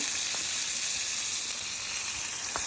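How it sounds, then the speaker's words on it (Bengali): Chicken dumplings sit in a pan with a splash of water and sizzle in a steady, close hiss, broken by a few faint taps. "ডাম্পলিংগুলো বসিয়ে দিয়েছে এবং অল্প করে নাকি পানি দিতে হবে সিদ্ধ হওয়ার জন্য"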